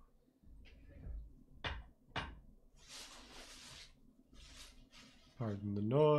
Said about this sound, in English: Pardon the noise, I'm just opening up some snacks for later.